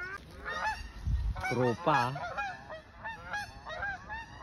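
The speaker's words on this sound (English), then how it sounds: "Yun naman yung duck." Ducks at a zoo marsh honk loudly in a few harsh, close calls, with a brief spoken word among them.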